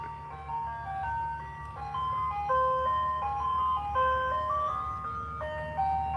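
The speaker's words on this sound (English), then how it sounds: "There's the ice cream truck coming." Ice cream truck approaching on the street with its jingle playing, a tinkling electronic melody of bright repeated notes over a low engine rumble, steady and moderately near.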